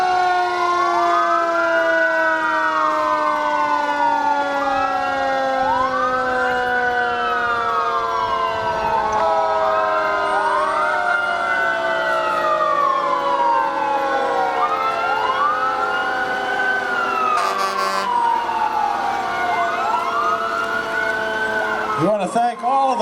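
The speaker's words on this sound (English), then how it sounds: "We have the area fire trucks with Wampum leading" Area fire trucks led by the Wampum unit roll through a Christmas parade, their wailing sirens rising and falling in repeated sweeps, loud and close with several sirens overlapping, ending in a short blast.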